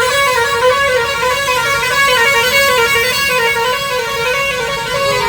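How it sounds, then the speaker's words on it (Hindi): A loud, continuous vehicle horn blares steadily without a break, close by. "ऐसा हॉर्न इसको बजाना पड़ रहा है"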